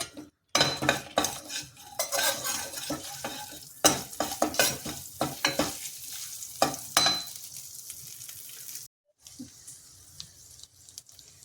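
Garlic cloves fry in a pan for dal while being stirred, a run of scraping spoon-on-metal strokes and clinks over a soft sizzle, close and irregular, pausing briefly near the end.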